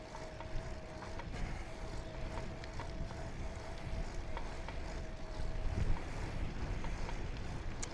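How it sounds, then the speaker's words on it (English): Wind buffets the microphone during an outdoor tandem bike ride in Portugal, a constant low rumbling roar that swells slightly in the second half, loud and close, with no talking. "Wind is not helping right now."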